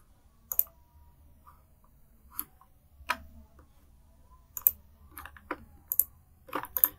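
Keys on a computer keyboard are tapped in sparse, irregular clicks, a few single strokes and then quicker clusters, close and fairly quiet over a near-silent room.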